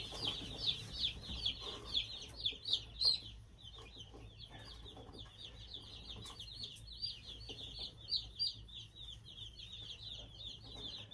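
A batch of about 225 baby chicks chirps in a busy chorus of high, rapid peeps, louder in bursts early on and then continuing steadily at moderate volume with no talking.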